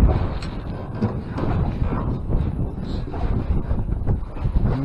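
Wind buffets and roars steadily across the microphone on a cold, windy day while fishing for crappie and catfish, a low rumbling gusty noise that fills the whole stretch without letup.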